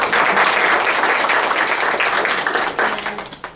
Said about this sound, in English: I don't know if we want to give her a round of applause.